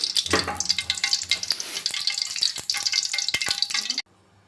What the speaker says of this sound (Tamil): இப்போ நான் எண்ணெய் ஊற்ற போகிறேன்.